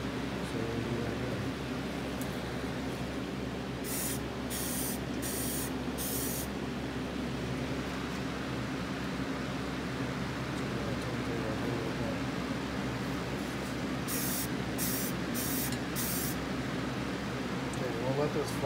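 Spray gun applying a second coat of paint to screw heads for Chevelle headlight bezels, heard as several short hissing bursts in two clusters over a steady low background hum.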